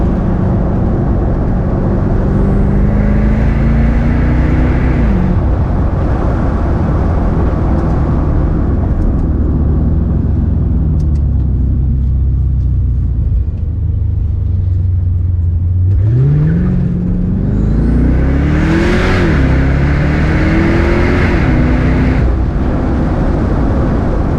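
A 500 HP Mercedes AMG DTM race car, a light convertible, drives loud and close through a big corner, its engine rising and falling through downshifts and then revving back up under acceleration.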